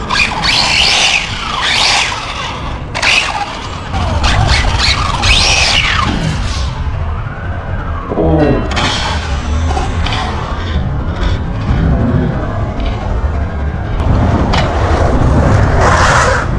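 A fast RC car races past at high speed, its whining motor and tyre noise surging loud and close, with sharp scrapes and knocks as it runs over the ground.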